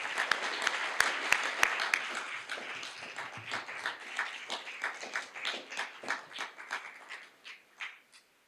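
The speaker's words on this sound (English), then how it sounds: "join me in a round of applause for his award." Audience applause at a business college alumni awards ceremony, starting with a few sharp individual claps before swelling into steady, fairly close clapping from a room full of people that fades out toward the end.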